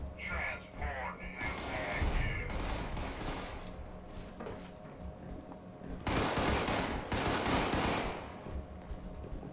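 Gunfire in the online game Fallout 76: rapid bursts of automatic shots, some muffled and distant and others louder, over steady game ambience.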